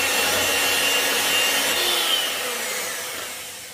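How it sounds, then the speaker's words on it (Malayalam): Butter and sugar being beaten together in a bowl, a continuous close rough whisking, rubbing sound that stays steady before easing off slightly at the end; no talking. "നമ്മുടെ ബട്ടറും ഷുഗറും കൂടെ ഒന്നിട്ട് നന്നായിട്ട് ബീറ്റ് ചെയ്യുമ്പോഴത്തേക്ക് നന്നായിട്ട് ഇതൊന്ന് പൊങ്ങി വരുന്നതാണ് നമ്മുടെ ഈ ബട്ടർ."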